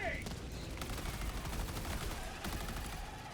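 Rapid gatling gun fire pours into a bug breach during a Helldivers 2 battle, a dense continuous burst of gunshots with explosions and game noise and voices mixed underneath.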